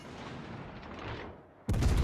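Naval gunfire from warships in the video game World of Warships: Legends, with a rumbling low background that drops away before a sudden loud, booming salvo lands near the end.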